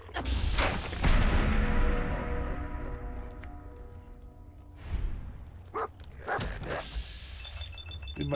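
Dogmeat, the companion dog in Fallout 4, barks and yips in bursts with whimpers between them, close and fairly loud, amid thumps and other game noises.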